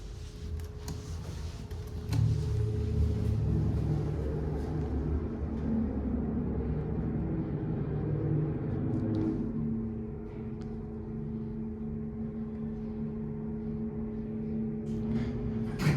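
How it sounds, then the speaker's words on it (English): A new motor in a Montgomery KONE hydraulic elevator at a shopping mall runs through an ascent, a steady low hum with faint ticking and a constant tonal drone, with no voices. "let's stay quiet on this way up so we can hear this motor"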